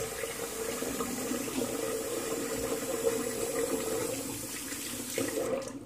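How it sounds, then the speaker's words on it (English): Tap water runs steadily into a sink while soap is rinsed off after a shave, making a constant close splashing flow that stops just at the end. "Okay, do a little rinse off, see how I did"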